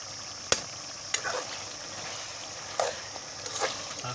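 Red masala spice sizzles as it fries with browned chicken in a chicken and potato curry, a steady broadband hiss broken by a few sharp clinks and stirring scrapes, close and alone with no talk.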